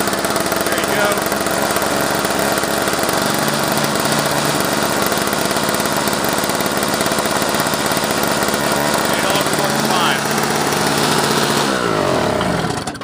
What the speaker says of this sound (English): Started up on one pull out there. And the auger should work perfectly.